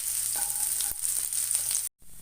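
Bright hissing sizzle of ginger and garlic frying in hot oil, steady and close, with a brief clink of a utensil and a short cut to silence.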